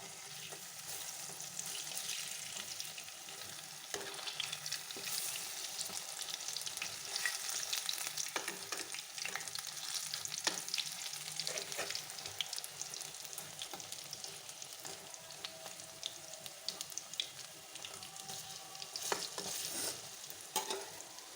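Bok flower fritters deep-fry in hot oil, producing a continuous crackling sizzle with frequent small pops and stirring sounds over about twenty seconds, with no voices.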